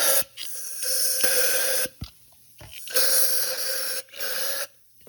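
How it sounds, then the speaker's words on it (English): Brake cleaner sprayed from an aerosol can onto a trashed 2014 Ford 3.5L twin-turbo EcoBoost engine, several long hissing bursts separated by short pauses, close and loud. "The next thing that we're going to be doing is spraying some brake cleaner down there."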